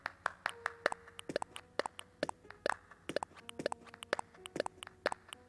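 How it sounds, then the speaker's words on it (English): Rapid, uneven handclaps from a video game clapping emote, sharp and close, repeating in quick clusters for several seconds with no talking. "There's clap."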